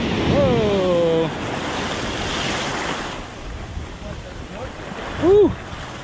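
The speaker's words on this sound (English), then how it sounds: "Those waves are pretty strong when they do come up." Strong ocean waves breaking on a beach during surf fishing, a continuous roar of surf with wind noise on the microphone, plus a couple of brief whistle-like tonal calls at the start and again near the end.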